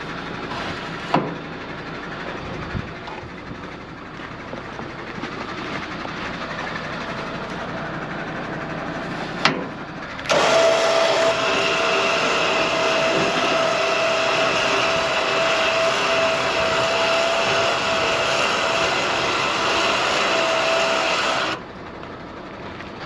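An electric motor drives a motorized motorcycle rack on a KTM overland rig, operated by remote, humming steadily for about eleven seconds and then stopping abruptly, preceded by a few faint clicks and clunks from the pins.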